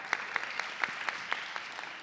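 A convention panel audience at Comicpalooza gives a thin, sparse round of applause, scattered individual claps ringing out distinctly over a soft hall murmur.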